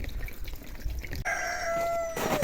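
A rooster crows once in a long, drawn-out call outdoors, standing out above faint background noise.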